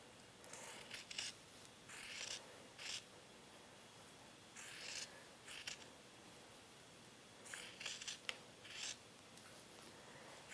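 Scissors trim fabric seam allowances at the tie end of a 1950s halter dress bodice. The snips come in quiet, short bursts, some in quick clusters, close by with no talking.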